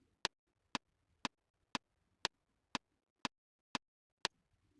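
A digital audio workstation metronome clicks steadily at 120 beats per minute, nine crisp, evenly spaced ticks half a second apart, close and alone in a quiet background.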